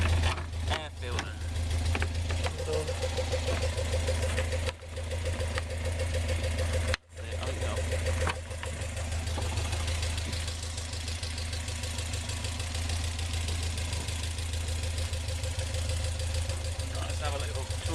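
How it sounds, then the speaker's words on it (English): A Westfield kit car's 1600cc crossflow engine with Weber carburettors and K&N filters idles steadily nearby, a continuous low lumpy drone with a knocking rhythm, while people talk over it and a brief gap breaks the sound midway. "So yeah, it's a 1600cc crossflow engine. We've got the Webers, the K&N filters."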